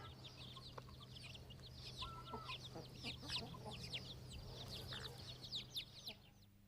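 Hens cluck softly with the high peeping of chicks around them in a warm farmyard, a steady busy chorus of small calls close by, with a low hum underneath.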